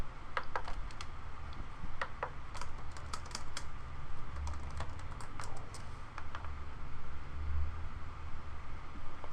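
Keys clatter in irregular bursts of clicks as someone types a search query on a computer keyboard, fairly close and steady over a faint background hiss.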